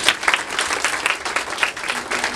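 An audience of nurses and doctors at a hospital yoga talk claps together, a dense broadband patter of many hands with rhythmic swells, fairly loud and close, no voices.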